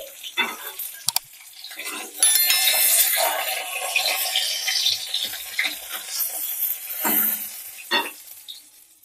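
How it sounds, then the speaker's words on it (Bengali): Hilsa fish frying in hot oil in a pan, a loud crackling sizzle that swells after a few initial clicks and then settles into steady spitting with occasional sharper pops. "তেল গরম হয়ে গেছে, এবার মাছগুলো ভেজে নেব"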